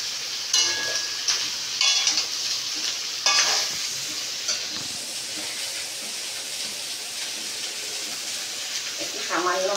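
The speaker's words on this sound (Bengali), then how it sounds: "এবার আমি দিয়ে দেবো চিচিঙ্গা" Snake gourd sizzles and crackles as it goes into a pan of frying prawns, a bright continuous hiss with scraping stirs, while someone talks over it now and then.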